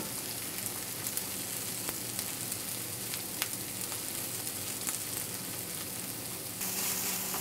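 Dry spices sizzle steadily in a hot pan while a Pakistani curry is cooked, a continuous close frying crackle with a few sharp ticks and no voices.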